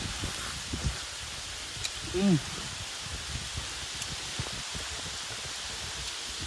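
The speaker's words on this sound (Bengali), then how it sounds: "চলেন ভাই বৃষ্টি চলে আছে চলে যেতে হবে" Rain falls on mango trees in a Rajshahi orchard, a faint steady hiss with soft leaf rustling throughout, broken by a brief louder voice-like sound midway.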